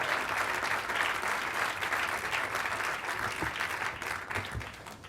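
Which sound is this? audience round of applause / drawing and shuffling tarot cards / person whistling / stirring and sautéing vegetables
audience round of applause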